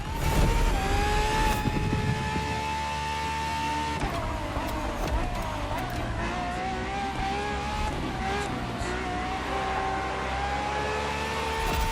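Ferrari R&D test race car engine in The Crew Motorfest, a loud high-pitched wail climbing through the revs, a sharp shift near the start, then sustained screaming acceleration without talk.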